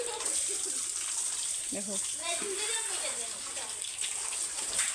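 Water running out of a house compound's drain, a steady gushing flow close by, with a person speaking briefly over it partway through.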